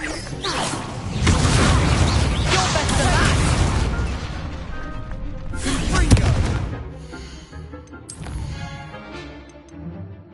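Incendio fire spells cast in Hogwarts Legacy during an evil playthrough, heard as loud whooshing bursts and blasts with crackling impacts, two main surges followed by smaller pops, while a voice talks over parts of it.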